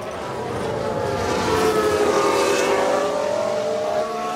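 Race cars overtake in F1 Manager 22, engines holding a loud, steady whine that rises slightly in pitch as they pass, with no voices.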